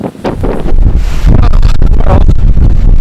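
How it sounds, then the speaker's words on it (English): Strong gusting wind buffets the microphone on an exposed Scottish hilltop near Sgor Mor, a loud, continuous roar with rising surges and rustling, no voices. "I mean, it's really gusting now."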